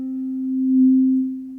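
A single sustained tone from a Behringer DeepMind 12X synthesizer, its filter set to the note's pitch, nearly pure and steady, swells slightly louder in the middle before easing back.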